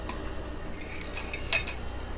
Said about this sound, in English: I'm gonna give everything one final stir here.